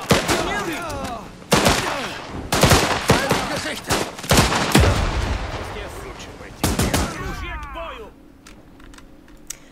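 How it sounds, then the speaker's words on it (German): Enemy gunfire in the video game Last Train Home: loud, sharp bursts of shots in clusters, with someone talking over the action and keyboard clatter between volleys. "Feindlicher Beschuss!"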